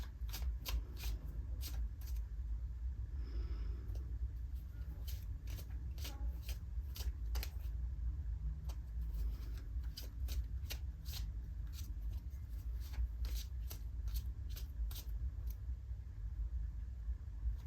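Cards being shuffled in repeated crisp riffling bursts, close up, over a steady low background hum.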